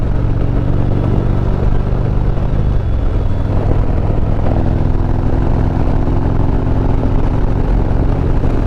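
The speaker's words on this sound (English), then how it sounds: "I can't stop listening to that exhaust, man. That thing sounds so good." A deep, steady exhaust rumble from a vehicle engine, loud and continuous throughout, with a slight dip in pitch partway through.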